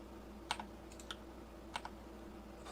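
Computer keyboard keys pressed for a Ctrl+G grouping shortcut in Blender 3D modeling software, heard as a few soft, close clicks in two small pairs over a quiet room hum.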